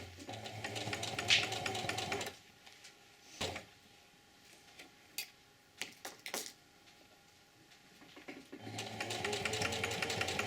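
A sewing machine stitches canvas moccasin uppers in two loud, steady runs at the start and end, with a quiet stretch in between broken by clicks and handling knocks.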